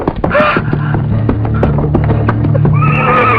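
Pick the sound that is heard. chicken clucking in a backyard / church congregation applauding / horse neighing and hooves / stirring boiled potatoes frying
horse neighing and hooves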